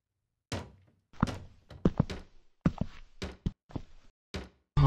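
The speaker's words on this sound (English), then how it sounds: "I knew I would have left as soon as I heard the first knock" Knocking on a door inside a video game: loud, hollow thunks arriving in separated bursts of two or three raps, repeating several times with short pauses between.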